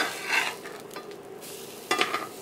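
Vegan plant-based burger patties frying in a pan as they are flipped, with soft sizzling and a couple of brief scraping, stirring bursts from the spatula, close and moderately quiet.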